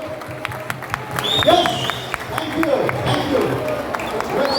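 An audience at a film promotion event in a mall breaks into scattered applause and light cheering, with a person talking over the crowd noise.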